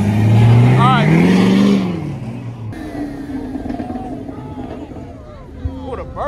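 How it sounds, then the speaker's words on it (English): A Chevrolet Camaro engine at a street car meet revs loudly and close for about two seconds, then fades into a lower rumble under crowd noise and chatter. "A little Camaro."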